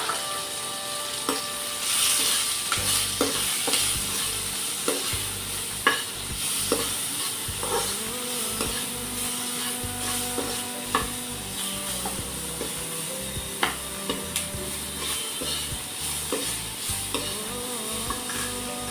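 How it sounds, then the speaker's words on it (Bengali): Onion, tomato and green chili sizzle in hot oil for an egg curry, with a steady close frying hiss broken by repeated scraping stirs of a spoon against the pan. "ফোড়ন দিয়ে দিলাম, পেঁয়াজ টমেটো দিয়ে দিলাম,"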